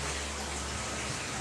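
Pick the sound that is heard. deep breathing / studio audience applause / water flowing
water flowing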